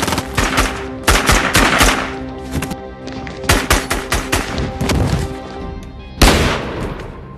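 Loud film gunfire crackles in rapid automatic bursts, with sharp close shots clustered in volleys separated by brief pauses, and a final heavy report near the end.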